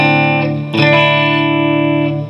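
Distorted electric guitar chords sustain and shift upward in a single step partway through, ringing thick and loud with no voices.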